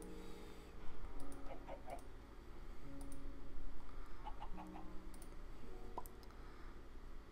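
Chickens clucking in a Minecraft-style video game from the Blightfall modpack, short scattered clucks over a quiet steady background ambience.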